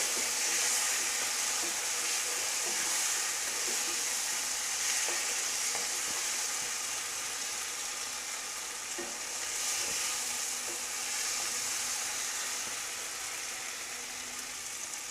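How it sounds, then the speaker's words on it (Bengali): Fried potatoes sautéed with masala for Bengali aloo dum sizzle steadily in oil, a continuous close frying hiss with scattered stirring scrapes and ticks throughout. "আলুগুলোকে এর সাথে একটু আমরা 2 মিনিট মতো কষিয়ে নেব"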